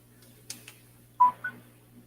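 A phone warns that it is not charging with a few short electronic beeps, soft and spaced apart over a steady low hum indoors.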